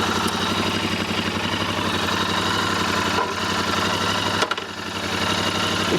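A motorcycle engine ticks over at idle, a steady close rumble with even pulsing that continues throughout.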